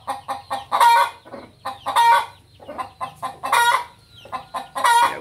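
A rooster calling to a hen makes a series of rapid, repeated clucking calls in rhythmic bursts, close and fairly loud, pausing briefly between each run.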